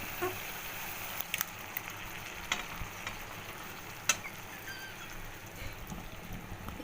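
A paste of onion, peanuts, almonds and melon seeds sautés in hot oil, giving a continuous low frying hiss with scattered spoon clicks and scrapes against the pan.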